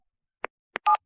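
Phone number dialed on a telephone keypad: two short separate tones, then a longer tone, each crisp and close, with quiet gaps between and no talking.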